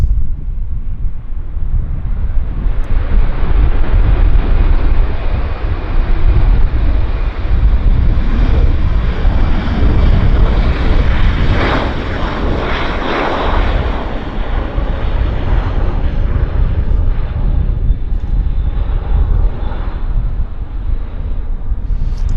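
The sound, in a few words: Delta Airlines Airbus A321 airplane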